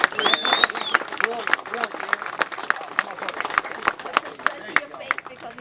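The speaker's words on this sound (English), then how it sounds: "So, give me an applause" A group claps for a construction rig at a 3rd UK Recon off-road gathering, with scattered claps and a few whoops. People talk and shout over the clapping throughout.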